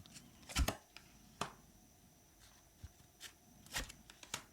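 Tarot cards handled and shuffled during a reading, heard as faint, sparse papery clicks and soft riffles with quiet gaps between them. No one speaks.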